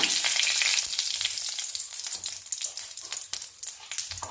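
Cumin seeds, a dried red chili and a bay leaf frying in hot oil give a steady, bright crackling sizzle with small pops throughout, fading slightly toward the end, with no voices.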